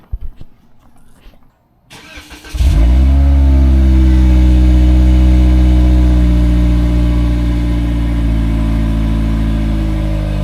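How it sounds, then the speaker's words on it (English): A Toyota Corolla Apex fires up from cold: a brief starter crank, then the engine catches with a loud flare and settles into a steady, high, even cold-start idle heard up close. "you want to do a little cold start so we could hear it"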